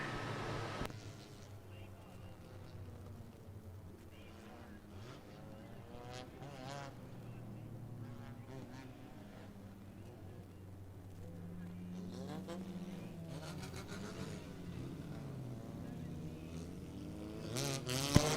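Race car engines at Thunder Road Speedbowl during a midseason championship, the number 54 car on a slow lap of honor around the speedway, a steady droning roar with a rising pass near the end, under continuous announcer commentary.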